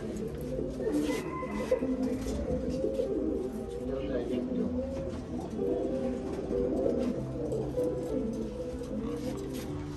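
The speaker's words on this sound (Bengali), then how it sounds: "আমরা এই 10টা কবুতর দেখবো" Racing pigeons in a flying loft coo steadily as a dense, overlapping murmur that continues for the whole stretch, with a voice faintly mixed in.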